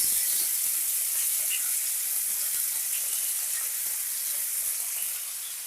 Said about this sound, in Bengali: এবার বাটা মাছগুলোকে ভেজে নেব।